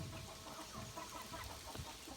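Soft, low clucking of chickens, including chicks of various breeds, preening after rain, mixed into a steady background hiss, fairly faint and continuous.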